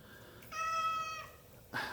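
A cat gives one clear, drawn-out meow, then starts another short call at the end. Both are close and fairly quiet over a faint background.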